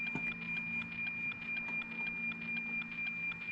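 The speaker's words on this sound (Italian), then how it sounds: "è proprio il segnale che arriva dal satellite, dallo spazio." NOAA weather satellite signal picked up with an SDR dongle: a steady electronic tone over hiss with a fast regular ticking pulse, continuous and even in level.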